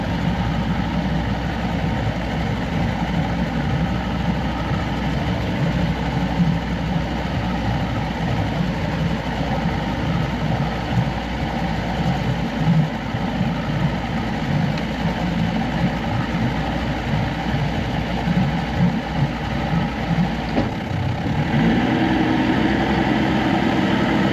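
An Evinrude 150XP outboard motor drones steadily and loudly while driving a McKee Craft boat that is losing power. The engine noise holds even for about twenty seconds, then the tone shifts near the end.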